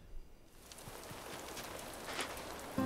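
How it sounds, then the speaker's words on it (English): Gentle video-game rain from Animal Crossing falls as a soft, steady patter that builds after a brief quiet start and holds at low volume with no talking. "I love the rain."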